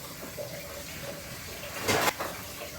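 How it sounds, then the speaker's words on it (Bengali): Prawn malai curry simmering under a lid in a Bengali kitchen, cooking in its own liquid with no extra water, gives a steady soft watery bubbling hiss with one brief louder surge near the end. "ফুটতে থাকুক, আমি ঢেকে দিলাম, এটা ফুটুক।"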